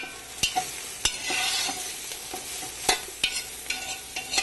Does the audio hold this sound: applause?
no